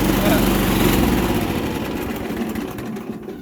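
An old Sears lawn tractor engine runs loud and close with the mower deck engaged, a steady rough drone that eases slightly over the few seconds.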